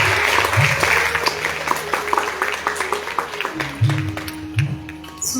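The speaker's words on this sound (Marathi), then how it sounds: "या संपूर्ण टीमसाठी एकदा टाळ्या वाजवा." Audience at a Marathi music concert applauding the organising team, with crisp, quick individual claps that are strong at first and gradually thin out, while voices and tonal sound carry on underneath.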